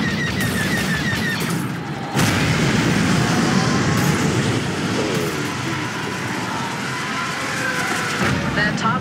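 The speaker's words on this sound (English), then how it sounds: "Rebel Y-Wings have started a bombing run." Y-Wing bombing run in Star Wars Battlefront II Starfighter Assault over Fondor, with continuous rumbling explosions and booming blasts mixed with rapid laser fire and engine roar, under constant dense battle noise with voices.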